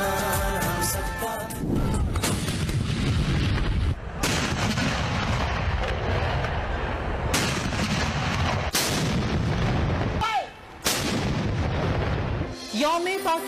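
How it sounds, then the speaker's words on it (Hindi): A cannon gun salute marks Pakistan Day, with heavy booming shots repeating every few seconds, loud and echoing, over a continuous background. "यौम पाकिस्तान पर वफाकी दारुल हुकूमत में 31 और सूबों में 21 तोपों की सलामी।"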